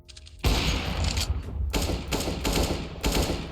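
AK rifle fire in a video game rings out in loud, rapid bursts, several sharp volleys with brief gaps between them after a short quiet start.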